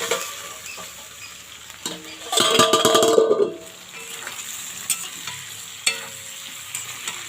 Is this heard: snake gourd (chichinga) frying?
yes